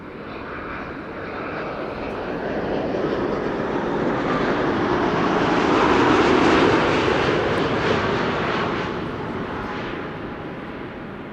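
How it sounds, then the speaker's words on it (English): A TUI Boeing 787-8 Dreamliner arriving at Amsterdam Schiphol after a flight from Willemstad, Curaçao, its jet engines a broad, loud roar that swells to a peak mid-pass and then slowly fades. "This is TUI flight 757 arriving from Willemstad, Curaçao. It's a 7878 Dreamliner."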